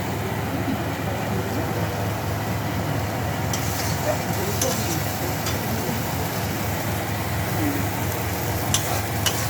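Thick spice paste frying in a pan for meat curry, a continuous low sizzle with occasional stirring scrapes and clinks, close and steady, with faint background noise.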